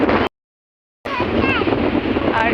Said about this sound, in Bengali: তার সঙ্গে হচ্ছে সমুদ্রের এত সুন্দর ঢেউ আর হাওয়া